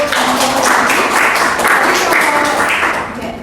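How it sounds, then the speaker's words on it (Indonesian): Applause from an audience in a classroom or lecture setting after a group presentation, a steady wash of many hands clapping for several seconds that fades slightly at the end. "berikan aplaus untuk"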